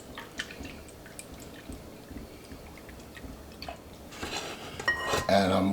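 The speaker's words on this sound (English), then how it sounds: "And we'll just whisk this up." Whisking giardiniera brine in a bowl gives quick, faint clinks and sloshes of metal against the bowl, building to a louder clattering burst of stirring near the end.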